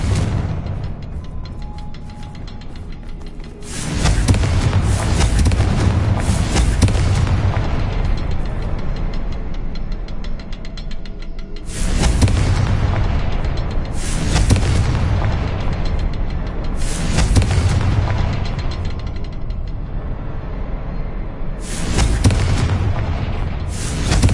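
Spell explosions from Bombarda and Confringo in Hogwarts Legacy: several loud, heavy booming blasts in separate bursts, each rumbling on for a few seconds after an opening stretch of quieter ambience.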